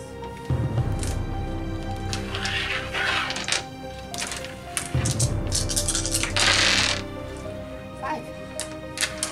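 Five dice rolled for a Betrayal at House on the Hill board game sanity roll, two bursts of clattering dice tumbling and knocking together, with people talking over them.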